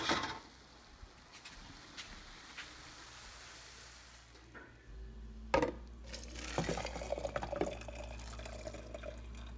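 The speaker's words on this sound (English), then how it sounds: "I'm going to drain this water" Water drained from a pot of instant noodles splashes and pours into a container that held bacon fat, faint dripping at first, then a louder gushing stream with clatters, close by and without speech.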